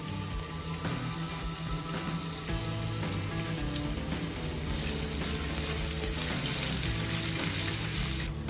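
Chopped onion sizzles loudly in hot oil, a dense, steady crackle that holds for several seconds with no voices.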